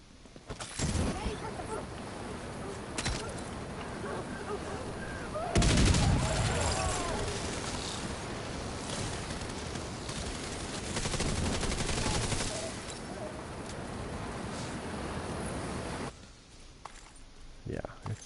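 Automated turret in The Division 2 firing in sustained bursts of gunfire, loud and close, with a sharper blast near the middle and a voice talking over much of the shooting before it cuts off near the end.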